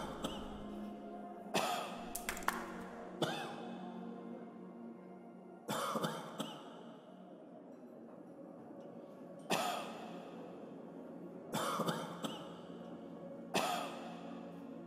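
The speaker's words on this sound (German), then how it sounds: "Wir haben Husten." Harsh, nearby coughs break out in several separate fits, often two or three in quick succession, spread across a quiet room with no talking.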